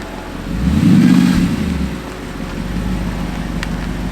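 A broken supercar's engine revs as it is pulled out, swelling to a loud mid-pitched roar for about a second, then settling into a steady running hum with wind-like rumble, no voices.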